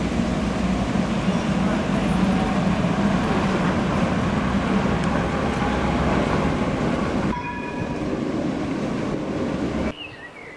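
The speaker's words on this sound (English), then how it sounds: "The best way to get to Waldemarsudde from central Stockholm is the streetcar" A Stockholm streetcar rolls along its rails with a steady, loud rumble and rattle of wheels, the noise dropping near the end as the ride changes.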